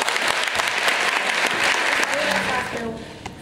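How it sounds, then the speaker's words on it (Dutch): Warm applause from a party audience fills the room, a dense, steady wash of many clapping hands that fades slightly in the final second as a voice begins. "ik wil graag een warm applaus voor jullie voor Anna en Lucie"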